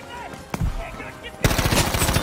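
M2 Carbine fire in Battlefield 5: a lone sharp report, then a fast burst of rapid automatic shots that rattles on to the end, loud and close over a low game backdrop.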